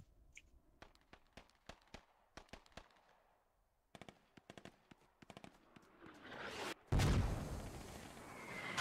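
Distant mortar rounds in the military shooter Squad thump in a spaced series of sharp reports, then a much louder, rumbling blast swells near the end, with no talk.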